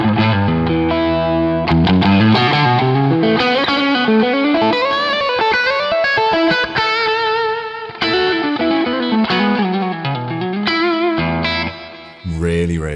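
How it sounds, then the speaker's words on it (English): Distorted shred lead electric guitar through a Two Notes Genome preset, fast legato runs and sustained bent notes with heavy gain, chorus and echo, loud and continuous for several phrases. "So you can see it's kind of like a shred lead tone."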